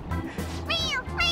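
A cat meows in the Persona 5 Royal video game: two or three drawn-out, rising and falling meows over a low game background hum, close and clear, with no talk.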